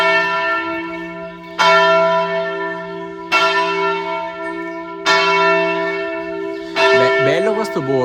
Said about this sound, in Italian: Mezzogiorno, 12 rintocchi.